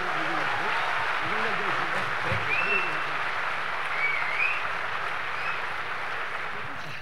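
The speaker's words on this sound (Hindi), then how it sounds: "तालियों की आवाज़ और ज़ोर से आनी चाहिए" At a literary festival stage event, an audience claps steadily in a continuous wash of applause, with voices audible underneath.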